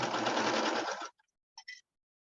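A sewing machine runs a continuous straight stitch on bell-bottom pants for about a second, then stops, leaving a few faint clicks and short mechanical taps.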